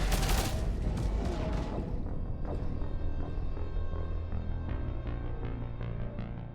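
Heavy gunfire and impacts in the Mass Effect 3 Legendary Edition combat, opening with a loud blast and settling into a dense, continuous roar of weapons fire and rumble throughout.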